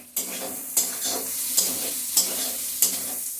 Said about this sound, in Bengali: মশলাগুলি আমার ভাজা হয়ে গেছে। এখন আলুটা দিয়ে দিচ্ছি।